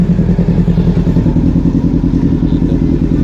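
An overhauled Yamaha XJR400 motorcycle engine warms up at idle, a loud, close, steady rhythmic chug with a slight mechanical clatter and no revving.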